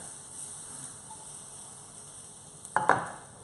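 Chili hits a hot pan on the hob and sizzles softly, then a brief burst of stirring scrapes near the end, close and fairly quiet.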